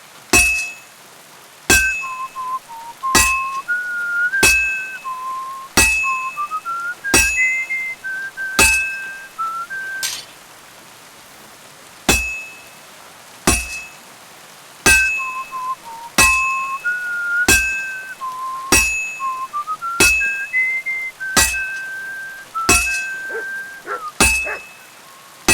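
In Kingdom Come: Deliverance II, a character whistles a meandering tune in short phrases, each phrase punctuated by a sharp metallic clink, repeating steadily and loudly throughout.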